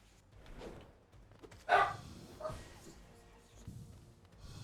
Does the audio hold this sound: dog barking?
yes